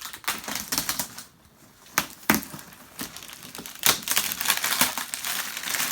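Plastic packaging of a Traxxas Slash 4x4 VXL RC truck crinkles and crackles up close in irregular loud bursts and rustles while being handled and unwrapped, with no speech.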